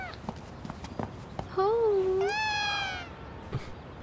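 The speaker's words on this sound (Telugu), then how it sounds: "మిస్టర్ ల్యూ, మీరు పిల్లిని ఎప్పుడు ఎత్తుకోలేదా?" A domestic cat gives one clear, drawn-out meow, close and fairly loud, while someone picks it up and holds it indoors, with soft handling noises and a faint voice around it.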